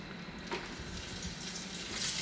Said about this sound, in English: The bacon is in there right now.